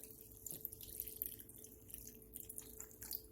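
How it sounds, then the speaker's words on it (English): Water trickles faintly into a cup as a keto menudo is prepared, a quiet, steady running-water sound in a kitchen with no talk. "let's add 2 cups of water"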